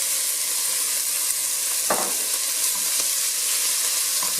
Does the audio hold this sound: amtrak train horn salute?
no